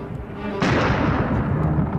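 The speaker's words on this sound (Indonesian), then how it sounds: "Ketika tiba-tiba dikejutkan suara meriam yang menggelegar." A sudden deep boom of cannon fire erupts and rolls on as a loud, rumbling blast, preceded by a brief moment of quieter noise.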